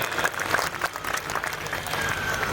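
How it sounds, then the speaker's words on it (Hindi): Audience applause at a Hindi kavi sammelan poetry gathering, a steady patter of clapping from a moderate-sized crowd, somewhat distant and held at an even level through the short stretch. "एक बार तालियां आप उठाते हैं कवि सम्मेलन को"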